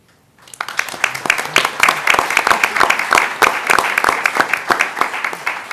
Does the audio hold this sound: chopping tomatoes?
no